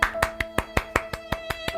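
Ten crisp, evenly spaced hand claps, close and fairly loud, set in a steady quick rhythm.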